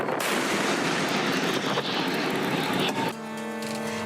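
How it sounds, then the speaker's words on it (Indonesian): Heavy gunfire from the US guided-missile destroyer USS Spruance at sea in the Gulf of Oman, a loud continuous roar of firing and blast noise that cuts off abruptly into a quieter tonal hum near the end. "Tembakan dilepas kapal perusak berpeluru kendali Amerika Serikat USS Spruance ke kapal kargo"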